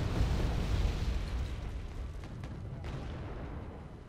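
Napalm artillery strikes in the war game Wargame Red Dragon, a dense continuous rumbling roar of explosions and burning with faint pops, loudest at the start and easing slightly, no voices.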